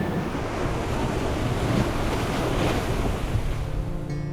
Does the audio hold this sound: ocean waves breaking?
yes